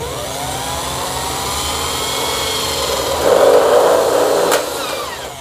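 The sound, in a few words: power drill drilling for a hydroponic build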